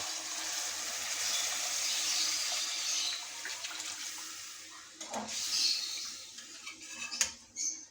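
Water poured from a glass into a pot of browned chicken and spiced masala for pulao, a steady splashing gush at first that thins into softer trickles and clinks, with no talking.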